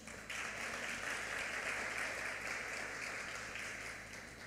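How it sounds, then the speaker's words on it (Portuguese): Church congregation applauding in praise to God during a service, a steady dense clapping that fills the room for several seconds, moderately distant and without speech over it. "Dá uma salva de palmas a Deus, irmãos"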